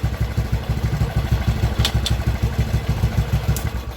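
A Kawasaki Kaze motorcycle engine idles steadily up close, with an even, rapid low thumping pulse and a few faint metallic ticks over it.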